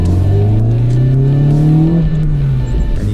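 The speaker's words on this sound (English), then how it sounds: "and you get that lovely intake sound" A Honda Integra Type R accelerates hard, its loud intake roar rising steadily in pitch for a few seconds before easing slightly, close and continuous with no talk.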